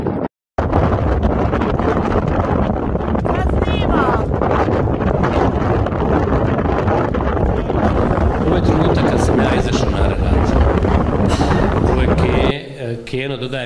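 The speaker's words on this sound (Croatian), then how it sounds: "vidite koliko tu vjetar puše" Strong wind roars and buffets the microphone continuously, loud and close, with a brief dropout near the start and the gusts easing slightly at the end.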